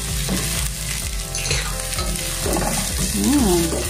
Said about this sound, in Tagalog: Follow po natin yung ating sibuyas, syempre. Yan, yung ating onions.